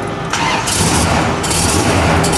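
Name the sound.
1970 Dodge Super Bee engine starting on a cold day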